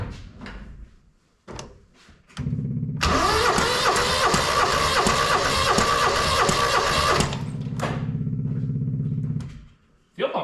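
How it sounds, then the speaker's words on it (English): The engine of a 1997 Honda Acty cranks during a compression test, a steady loud whirring churn of several seconds that starts and stops abruptly, with faint clicks and bumps before and after. "Compression's definitely not an issue on that one."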